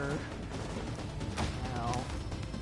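Gunfire rattles in The Division, a busy mix of shots and bangs heard mid-distance with a few sharper reports standing out, while a voice speaks over it.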